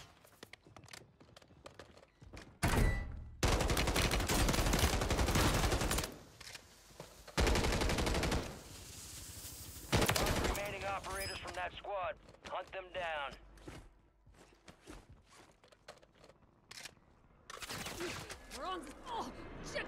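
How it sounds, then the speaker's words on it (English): Bursts of automatic gunfire and single shots from a Call of Duty MW3 ranked online match, loud volleys between quieter gaps, with game sounds in between. "Why are you shooting me?"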